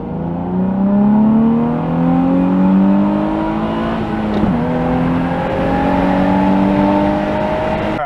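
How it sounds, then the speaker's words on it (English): A Nissan 350Z fitted with a VLSD differential accelerates on a test drive, its engine note rising steadily in pitch, dipping once at a shift and climbing again, loud and continuous with no talk. "So I'm going to do the initial test drive now."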